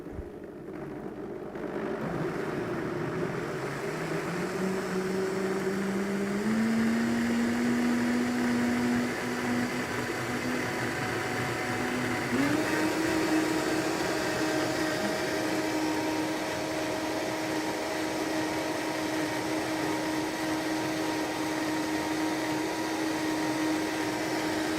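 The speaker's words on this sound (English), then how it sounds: "So this is the Vitamix, yeah?" A Vitamix blender starts up and runs continuously in a kitchen cooking demonstration, its motor pitch climbing in steps as speed increases, then holding a loud steady whir with broadband churning.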